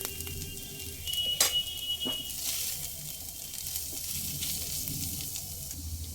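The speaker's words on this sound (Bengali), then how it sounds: "এক মিনিট মতো কষিয়ে নেবো মিডিয়াম ফ্লেমে" Katla fish head and pumpkin greens sauté in a pan over a medium flame, giving a soft, steady sizzle broken by a few sharp clinks and scrapes of stirring.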